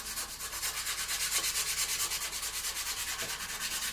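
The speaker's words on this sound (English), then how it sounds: "then we'll just take our sanding stick" A sanding stick rubbing lightly over a still-wet filled surface, giving a soft, rhythmic back-and-forth scraping repeated in quick, even strokes, close and quiet with no talking.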